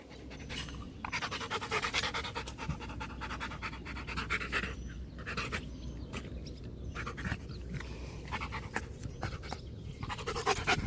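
A small dog panting rapidly and rhythmically right up close, quick breathy huffs in a steady run with slight pauses, loud and alone without any voices.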